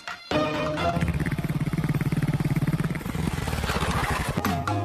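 Borrowed motorcycle engine running close by, a loud, fast, rhythmic putter that steadies after a sharp start and then shifts near the end, with no voices over it.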